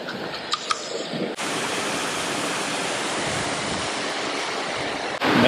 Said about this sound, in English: Made it to the top of the Yelapa waterfall